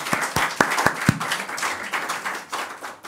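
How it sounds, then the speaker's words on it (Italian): A few people clap for a young man at a gathering by the boat, first several sharp separate claps and then a dense patter of applause that continues steadily. "un bel applauso per sto bel ragazzo"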